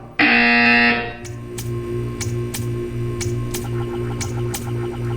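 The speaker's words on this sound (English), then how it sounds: "When you hear the buzzer, stare at the art." A loud electronic buzzer sounds once in an art-viewing space, a harsh tone lasting under a second, followed by faint regular ticking.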